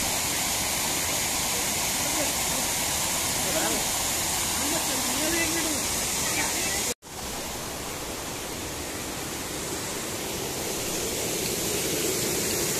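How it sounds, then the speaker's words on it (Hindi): The Sahastradhara waterfall roars as a dense, steady rush of falling water, loud and continuous, with a brief cut in the middle. "पीछे ससधारा का फेमस वाटरफॉल है"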